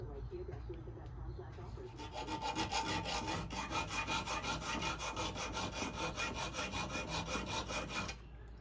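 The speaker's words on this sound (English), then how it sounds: "it was kind of rusted and pitted, so I'm using the file" A metal file rasps along the bevel of a rusted, pitted scissor blade in steady back-and-forth strokes, close and fairly loud, running continuously for most of the clip before stopping near the end.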